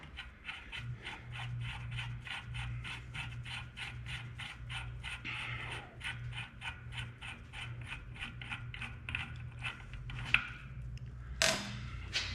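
A metal nut spun down the freshly cut threads of a fabricated aerator drive shaft, giving a steady run of rapid, evenly spaced ratcheting clicks and creaks close up over a low machine hum, ending with a couple of sharper metallic knocks.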